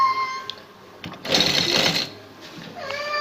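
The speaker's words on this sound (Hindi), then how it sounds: "इसी तरीके से सिलाई लगाएंगे जिस तरीके से इस साइड वाली लगाई है" A sewing machine stitches a border along the slit of a kameez, giving a short burst of steady mechanical whirring in the middle, with quieter handling sounds and faint tones before and after.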